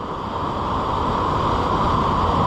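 Chasm Falls, a Tasmanian waterfall seen along its whole height from a chasm viewpoint, roars in a steady, loud, unbroken wash of falling water with no voices.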